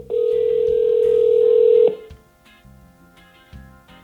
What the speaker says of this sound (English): So if I wanted to make a call, let's make a call right now.